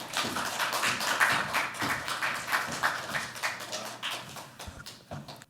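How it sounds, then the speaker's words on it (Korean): A seminar audience at the National Assembly gives warm, steady applause to welcome a lawmaker to the podium, dense overlapping claps fading slightly toward the end, with no talking over it. "따뜻한 박수로 맞이해 주시기 바랍니다"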